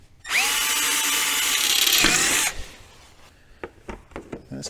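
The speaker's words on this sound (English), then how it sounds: "3/16 drill bit." A power drill with a 3/16 bit drills holes up into the footrest of a 2023 Ski-Doo Expedition SWT snowmobile. One steady, loud whine lasts about two seconds, then stops, followed by faint clicks and handling noises.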